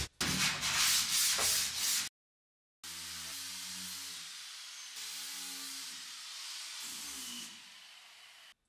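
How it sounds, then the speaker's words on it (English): A hand file is drawn over a metal panel by an English craftsman in long rasping strokes, close and fairly loud, with one short burst of strokes, a pause, then a longer run of steady filing. "Get one more file just to pick up any remaining swells."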